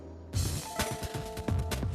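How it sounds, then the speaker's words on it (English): A house doorbell chimes with sustained ringing tones after a short thump, heard close and clear over indoor room noise. "Karen, did I really need the doorbell?"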